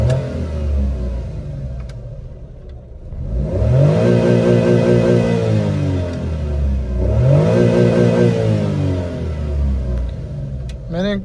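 A Suzuki Alto VXR 660cc small car engine revs up twice in rising sweeps, each climb loud and near, dropping back to idle between pulls, with a brief click at the end.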